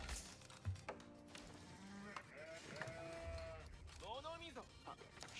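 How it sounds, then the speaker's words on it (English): Sheep in a video game bleat in a run of wavering, drawn-out calls over a steady game background, with a louder cluster of quavering bleats near the end. "Sheep over there, cool."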